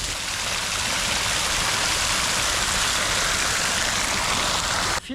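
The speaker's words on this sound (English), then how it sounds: "I hope you can hear me with the water in the background there." Water rushes steadily at Punggol Waterway Park in Singapore, a loud continuous close-up wash of flowing water with no other sound over it.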